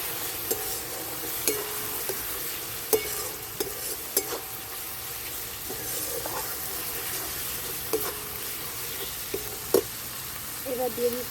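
Spices and turmeric powder for crab curry being stirred and fried in a pan: a steady sizzle runs under repeated scraping strokes of a spatula and occasional clinks of metal against the pan.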